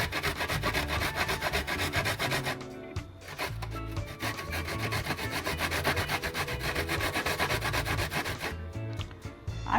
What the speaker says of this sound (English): Use the finest side of your grater